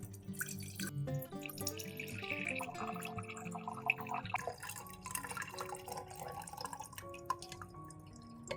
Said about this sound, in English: Use a funnel to pour the mixture into a spray bottle.